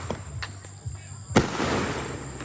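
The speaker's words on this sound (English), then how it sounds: "who are just shooting fireworks out here" Fourth of July fireworks set off outdoors in Florida, a few distant pops early on, then one sharp loud burst followed by sustained crackling and hiss.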